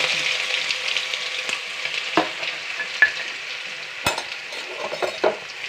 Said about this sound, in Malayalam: ഇഞ്ചി വെളുത്തുള്ളി നല്ലോണം മൂക്കണം കേട്ടോ